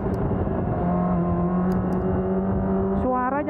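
A four-cylinder motorcycle engine holds a smooth, steady drone close by, then rises in pitch near the end as it revs up.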